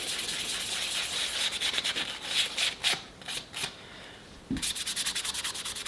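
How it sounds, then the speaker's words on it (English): A Scotch-Brite pad rubs lightly across the painted surface of a Black Series Boba Fett helmet being customised, giving close, steady scuffing strokes that pause briefly midway and then resume in quick, even rhythmic passes. "Just lightly hit it with the Scotch-Brite."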